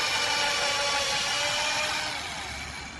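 A power drill bores holes through a 2x4 wooden board, a steady loud whirring drone running continuously close by and easing off slightly toward the end.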